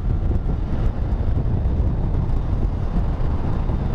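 Steady, loud wind buffeting rushes over the microphone while riding a Yamaha MT-09 motorcycle, a dense roar that holds for the whole stretch with no talking.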